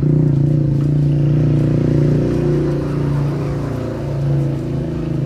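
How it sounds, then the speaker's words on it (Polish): A neighbour's motorcycle pulls away, a loud, close engine drone with a steady low pitch that holds and then slowly eases off as the bike rides into the distance. "Sąsiad pojechał motocyklem."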